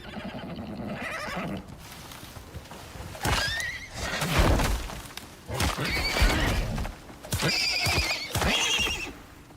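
Horse in the video game Icarus neighs and whinnies several times across the clip, with clip-clopping hooves and footfalls underneath, fairly close and loud, no talking.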